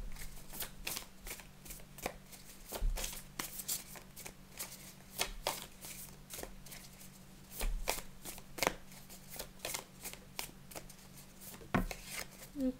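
Tarot cards are shuffled by hand in a rapid, irregular run of crisp riffling flicks and soft slaps over a low steady hum, continuing close and moderately loud throughout with no talk.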